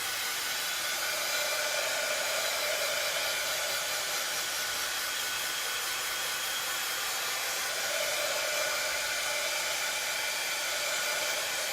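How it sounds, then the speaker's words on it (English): A heat tool blows continuously to dry paint on a Dollar Tree Easter bunny craft sign, a loud, steady, close whooshing hum with slight shifts in tone, alone with no voices. "I'm going to go ahead and go in with my heat tool"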